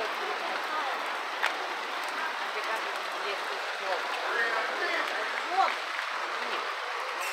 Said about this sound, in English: my God, it's raining so hard.